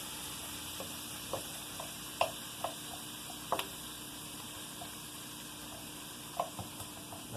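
Onions and beans cooking on a gas stove give a quiet, steady sizzle with occasional faint ticks and light pops, heard close with no talking.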